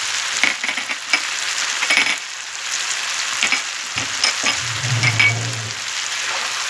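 Four garlic cloves crackle and sizzle in hot oil beside sautéed eggplant, a busy spattering fry with scraping stirs, brief pauses, and a low scraping rumble near the end.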